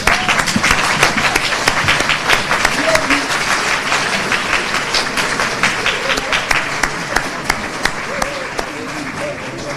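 At a graduation ceremony, a standing audience gives a rousing round of applause for parents and caregivers, a steady dense wash of many hands clapping at a constant loud level throughout.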